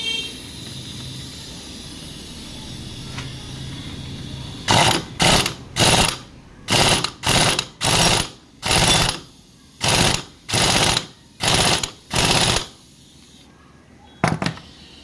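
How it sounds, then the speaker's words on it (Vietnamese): An impact wrench drives bolts on a Honda Wave S110 clutch, with about a dozen loud, evenly spaced rattling bursts in steady rhythm, close by, after a quiet stretch. "sau đó chúng ta bắn ốc này vào nha"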